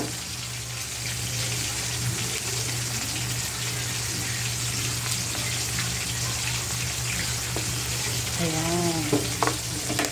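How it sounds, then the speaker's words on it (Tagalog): Fish and shrimp for sinigang sauté in a pan without oil, producing a steady close hiss and sizzle with occasional stirring clatter, while a voice speaks briefly near the end. "gisadong-gisado na pero walang mantika ha"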